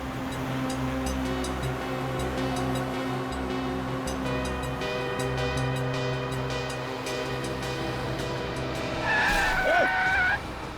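A car driven recklessly skids with a sustained tire squeal over a steady engine drone, the screech rising and sharpening loudly near the end.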